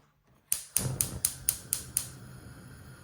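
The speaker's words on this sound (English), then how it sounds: "So we light the gas on the cooker." A gas cooker burner's igniter clicks seven times in a steady, sharp rhythm, close and fairly quiet, before a soft hiss remains.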